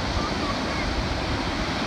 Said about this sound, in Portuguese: Barulho do vento, claro, né?